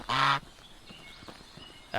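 A loud goose honk in Medieval Dynasty, then a quiet pause, then the start of another honk.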